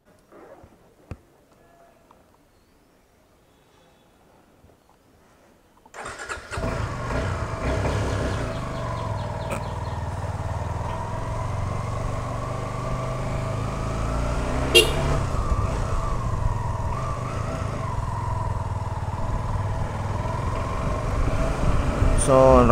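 Road traffic around a Suzuki V-Strom SX motorcycle ridden from Ramnagar toward Ramoji Film City: near-silence, then a steady engine drone and road rumble, with passing vehicles and a few short horn toots.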